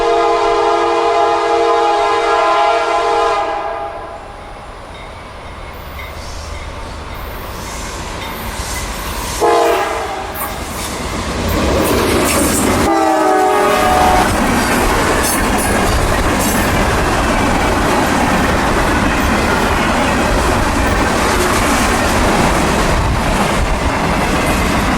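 A CSX grain freight train rolls past with loud horn blasts at the start, then the heavy rumble and rhythmic clatter of wagons on the rails continues up close, steady and loud throughout, with no talking.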